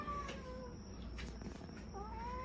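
A domestic cat meows several times, drawn-out wavering cries over a steady background hum, heard close and fairly clear with no talking.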